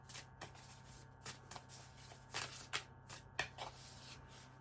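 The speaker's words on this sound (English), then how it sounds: "I am going to shuffle and pull a card from the Intuitive Whispers Oracle" Tarot cards are shuffled by hand in a quiet room, making repeated soft riffling and slapping bursts of varying length, close and fairly quiet, with no talking.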